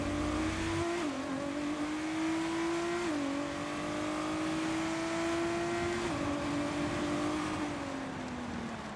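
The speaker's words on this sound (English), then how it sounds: "we're jumping into the McLaren Artura. And we have to get 89 miles an hour through this zone" A McLaren Artura accelerating in F1 22 on a wet track, engine note climbing steadily through several upshifts with brief dips at each gear change, loud and close with no voices.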